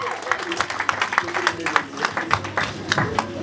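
Applause at a French-language birthday celebration for an apostle, with dense clapping from a crowd filling the room over a murmur of voices and occasional louder claps.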